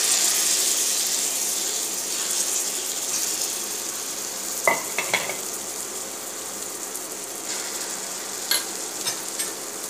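Ground gooseberry paste sautéed in a pan with turmeric, chili powder and asafoetida gives off a soft, steady sizzle, broken by a few clinks and scrapes from stirring.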